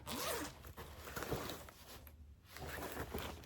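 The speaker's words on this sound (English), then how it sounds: "And you get this one zipper." A purse zipper is pulled open in one long rasping run, then drawn again after a brief pause, close and fairly quiet with no talking.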